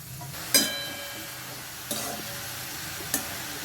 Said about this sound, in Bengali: চারিদিকে চাড়িয়ে দিয়ে ভালো করে নাড়িয়ে পুরো শুকনো ড্রাই করতে হবে